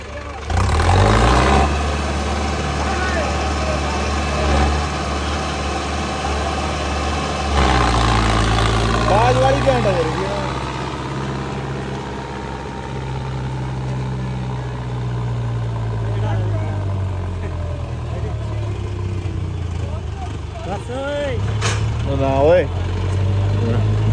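Modified Arjun Novo and Farmtrac 60 tractors run at close range with a steady, loud low diesel drone that revs up sharply near the start and again around eight seconds, with voices talking over it.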